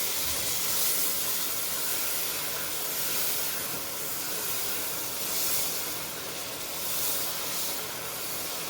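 Butter sizzles in a pan over medium-high heat while a seafood sauce is started, giving a steady, close hiss with gentle swells throughout and no talking.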